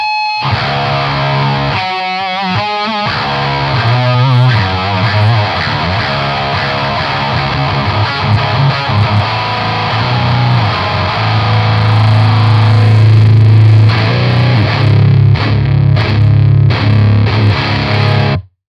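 Electric guitar through a Boss HM-2W distortion pedal, heavily distorted with a thick, buzzing, saw-like tone, played loud for a long stretch with chugging chords and sustained notes.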